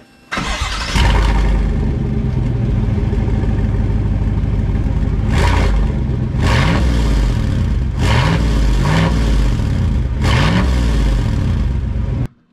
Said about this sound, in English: wants me to crank it up before I put that pipe on with it just cut